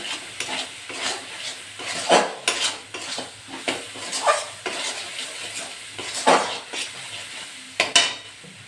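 Jackfruit and shrimp stir-fried with spices and salt in a pan, a spoon scraping and clanking against metal in repeated strokes over a soft, continuous sizzle.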